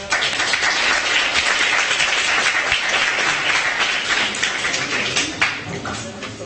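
A large conference audience claps steadily after amendments pass at a Model UN session, a dense, sustained wash of applause filling the room at high volume and tapering slightly at the end.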